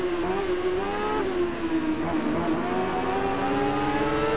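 A Honda CBR racing motorcycle in the game Ride holds a steady, high-pitched engine whine at sustained revs, loud and continuous with no voices over it.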